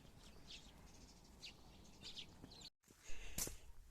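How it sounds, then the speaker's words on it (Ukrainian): Faint spring birdsong, chirps and tweets at scattered moments outdoors on a calm, windless day, with a soft, steady background hush and a brief gap in the middle. "Пташечки співають так гарно"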